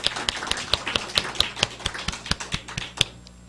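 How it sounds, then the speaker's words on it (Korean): A church congregation claps for the choir during a Sunday worship service. The sharp, evenly spaced claps fall in unison at a brisk steady beat for about three seconds, then stop. "다시 한번 힘차게 박수 쳐주세요."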